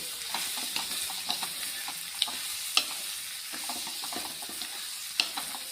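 Okra and potatoes sizzle steadily in a pan while a spoon stirs them, with soft scraping clicks and occasional sharper taps against the pan, close and fairly quiet with no talking.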